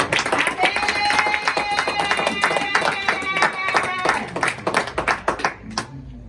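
A church congregation claps loud and close in a fast, steady rhythm of sharp slaps, with singing and cheering voices mixed in throughout.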